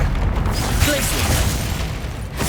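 A Glacius freezing spell is cast in the Hogwarts Legacy video game, set within a dense, loud, steady wash of game sound with low rumbling and no clear pauses.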